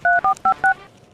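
Telephone number being dialed on a mobile phone, four crisp, evenly spaced keypad tones in quick succession, loud and close, with no talk over them.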